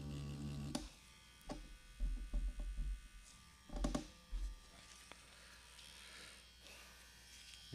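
A tattoo machine buzzes on synthetic practice skin during shading work, quiet and close, running in short intermittent bursts with a faint electrical hum between passes.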